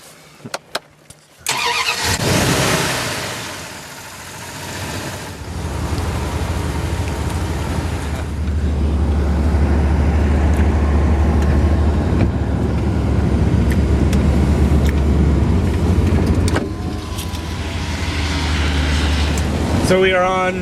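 A car engine starts and the vehicle pulls out onto the Trans-Labrador Highway in rainy weather. A sudden loud onset settles into a steady, close engine drone and road roar that lasts throughout, with a voice faintly present.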